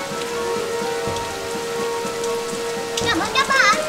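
Steady, loud rainfall with a dense patter of drops drums through a children's cartoon scene, and a voice chimes in toward the end.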